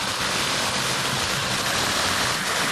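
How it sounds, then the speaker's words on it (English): A waterfall on a creek in Hoosier National Forest roars steadily as a dense, constant rush of falling water, close and loud with no voices. "I don't know if this waterfall has a name."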